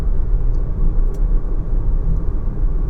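Steady low road rumble and tire noise fill the cabin of a VW Taos SUV at speed, a constant, fairly loud drone with no talking.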